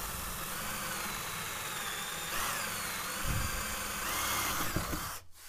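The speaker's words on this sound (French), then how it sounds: "Forez un trou le long de votre rayon intérieur." A power drill whines steadily as it bores into wood, the motor pitch shifting slightly before it stops abruptly at the end.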